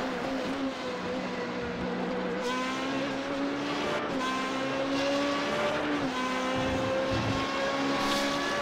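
A Formula 3.5 race car engine screams in an onboard view at Imola, a continuous high-pitched whine rising and falling through gear changes, loud and close throughout, with no voices over it.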